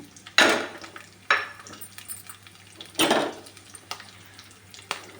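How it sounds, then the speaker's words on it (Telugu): Sharp bursts of sizzling as onion, garlic, dried red chillies, curry leaves and tempering seeds hit hot oil, with a few clinks of a utensil against the pan in between. "ఉల్లిపాయ తెల్లగడ్డలు ఎండుమిర్చి కరివేపాకు తాలింపు గింజలు పోపులో వేసాము పోపు ఆగుతూ ఉంటుంది"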